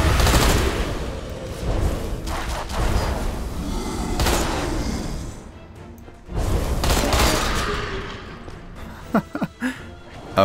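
Gunfire in the video game Deadfall Adventures, dense bursts of shots and booms filling most of the stretch, with a short lull midway and a few sharp separate cracks near the end.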